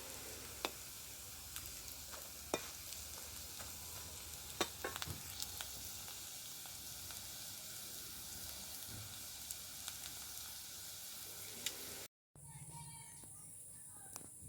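Masoor dal fritters (bora) fry in a kadai with a soft, continuous sizzle and occasional sharp crackles and pops, ending with a brief cut and a quieter tail.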